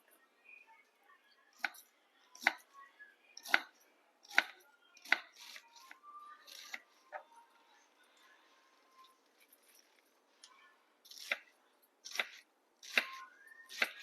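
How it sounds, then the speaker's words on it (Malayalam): A knife chops spinach leaves on a board for thoran, giving sharp, crisp knocks in irregular clusters with pauses between them, close and fairly quiet. "നമുക്കിത് ചെറുതായിട്ട് ഇപ്പം തോരനൊക്കെ മുറിക്കണ പോലെ മുറിച്ചെടുക്കാം"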